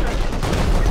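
Rapid automatic AK rifle fire in the survival game Rust, a loud sustained burst of overlapping shots during a chaotic raid defense.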